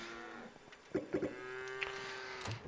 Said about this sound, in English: Ow, cow ran me over.